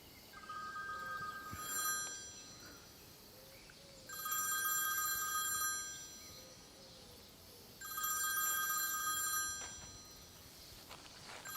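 A mobile phone rings in repeated bursts, an electronic bell-like trill lasting about two seconds each, separated by pauses, moderately loud against a quiet background.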